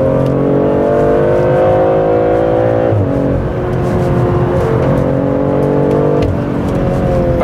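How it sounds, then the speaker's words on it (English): A BMW 3 Series, 330i M Sport or M340i xDrive, accelerating out of a corner: loud, continuous engine roar with rising revs, a brief dip near the middle, then climbing again. "Hard on the brakes, tire squeaking, accelerating out now."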